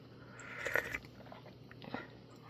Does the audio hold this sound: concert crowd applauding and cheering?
no